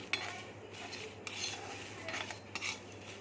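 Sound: dry chilli, coriander and cumin dry-roasted in a pan

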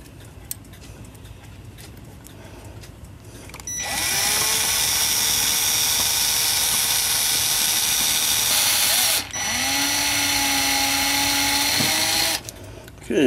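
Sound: drilling out a hole in cuckoo clock part

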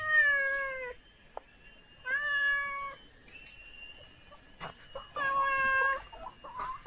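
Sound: cat meowing

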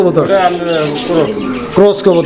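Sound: pigeons cooing, Chinese mong pigeon pair

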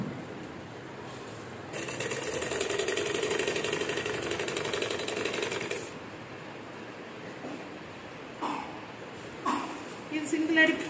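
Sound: sewing machine stitching a pant waistband with tape

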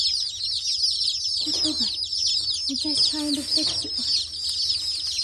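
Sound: chicks chirping and clucking

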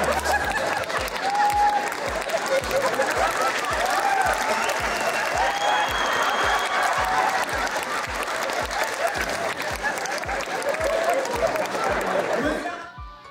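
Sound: concert audience applauding Beshtapan comedians

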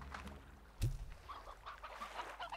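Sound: chicken clucking in the video game Slime Rancher

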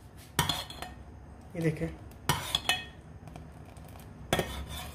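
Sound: spoon stirring thickening vanilla custard in a pot

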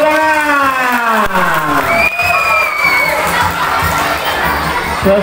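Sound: applause and cheering at a school traditional costume contest

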